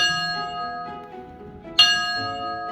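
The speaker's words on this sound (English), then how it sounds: "an opportunity for the kids to actually ring a real train bell" A metallic train bell in a museum rings with a sustained, ringing tone that decays, then is struck again loudly near the end.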